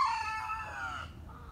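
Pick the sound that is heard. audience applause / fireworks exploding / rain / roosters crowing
roosters crowing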